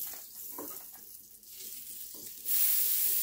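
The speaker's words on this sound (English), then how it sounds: "I like to take a little bit of margarine and put that on, let it melt in good" Margarine melting on a hot griddle before smash burgers, a quiet sizzle and hiss that swells into a louder, steady frying crackle near the end.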